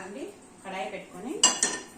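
A metal kadai pan is set down on a kitchen stove with two sharp, close clanks near the end, after softer handling sounds of cookware.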